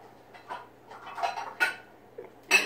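Knife chopping onions on a cutting board, a few irregular close-up chops and clacks against the board with short quiet gaps between them.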